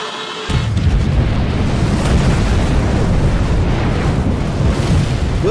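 A nuclear hand grenade explosion effect that bursts in suddenly after a brief quiet start, then roars as a loud, sustained rumbling blast to the end, with no voices.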